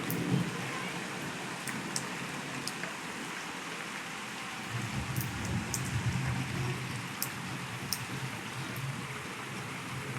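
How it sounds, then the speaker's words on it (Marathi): Rain falls steadily during an unseasonal spring downpour, a soft continuous hiss broken by a few sharp drips and taps, with a slightly fuller rumble of water in the middle stretch. "चला दाखवला तुम्हाला पाऊस कसा चालू आहे आमच्याकडे"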